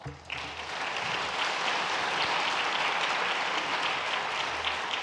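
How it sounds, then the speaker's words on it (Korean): A standing church congregation at a Sunday service breaks into warm applause, a dense, even clapping that starts abruptly and holds steady and loud throughout, with no voices over it. "자리에서 일어나시면 다 같이 격려의 박수하도록 하겠습니다"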